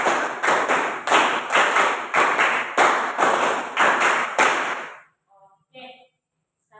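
A school class claps a quick rhythmic pattern in unison, loud, sharp, evenly spaced bursts of many hands for about five seconds, then stopping, followed by faint voices.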